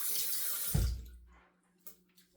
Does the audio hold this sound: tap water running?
yes